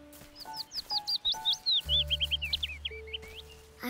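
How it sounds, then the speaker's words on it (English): Willow warbler sings a quick descending series of sweet whistled notes, close and clear, over a faint background with a few steady tones. "That was someone else whistling. Look! It's a willow warbler."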